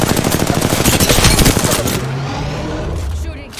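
Rapid automatic gunfire bursts in the video game Apex Legends, loud and dense for two seconds, then fading into scattered quieter shots and ambient noise.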